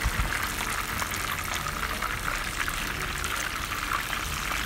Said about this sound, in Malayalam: ഇതൊക്കെ ഒരുവിധമൊക്കെ നന്നായി ഫ്രൈ ആയി വന്നിട്ടുണ്ട്.